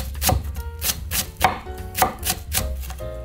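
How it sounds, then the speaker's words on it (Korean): A knife slices green onion (daepa) for bulgogi on a cutting board in quick, even chops, about two per second, close and crisp, with no talking. "기름기름하게 채 썰듯이 썰어주세요."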